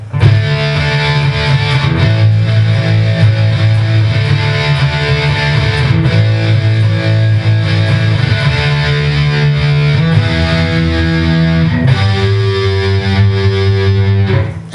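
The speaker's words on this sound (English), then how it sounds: "this is 80s guitar. It's pretty saturated with some distortion." Heavily saturated 1980s-style electric guitar for a song, with thick distorted power chords played loud and steady, shifting chord shapes every couple of seconds with no talking.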